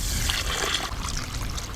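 Water splashes and trickles steadily into a pan with sugar for making Mysore pak, a brief, close and continuous pour with no voices.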